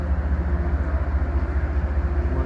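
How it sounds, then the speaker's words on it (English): A train rumbles at the Lakeville station with a low, pulsing rhythmic drone of rolling wagons, steady and fairly loud, with no voices. "the train dropped me off."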